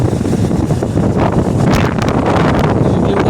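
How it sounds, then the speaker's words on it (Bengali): Wind buffets the microphone in a steady, loud roar while riding a motorbike along a leafy village road near Habra, with no clear breaks across the whole stretch. "ঠান্ডা হাওয়া আসছে, কি সুন্দর"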